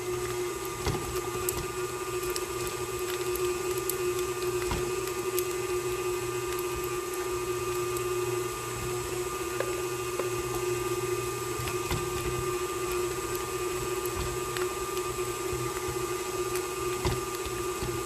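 A stand mixer attachment whips chunks of shea butter with a steady, continuous motor whir and grinding hum, interrupted by faint intermittent knocks, with no one speaking.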